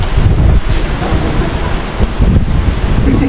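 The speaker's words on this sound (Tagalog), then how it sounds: "Dahil sa lakas ng alon." Strong ocean waves surge and crash at Palani Beach in Masbate, a loud, continuous roar of surf with heavy wind rumble on the microphone and no voices.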